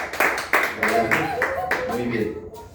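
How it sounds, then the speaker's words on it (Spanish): A church congregation applauds for Pastor Joel at a Spanish-language healing service, sharp claps bursting out and settling into steady clapping under a voice talking, fading toward the end. "Un aplauso a Dios por la vida del pastor Joel."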